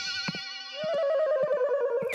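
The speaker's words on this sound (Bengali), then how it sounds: "মোবাইলের বদলে এই ল্যান্ডলাইনে আমাকে আবার কে ফোন করেছে?" A landline telephone rings with a warbling electronic tone that holds steady for about two seconds, close by, over a few soft knocks and movements.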